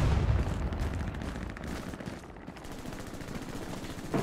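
Steady rapid gunfire in a military shooter video game, a continuous mid-distance stream of shots with a dense rumbling background and no talk.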